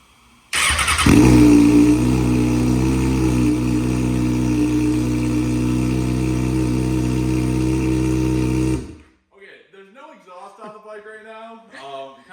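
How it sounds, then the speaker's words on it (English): A salvage motorcycle engine catches and starts, then idles loud and steady for about eight seconds before cutting off, followed by someone talking. "Let's see if we can get this thing fired up."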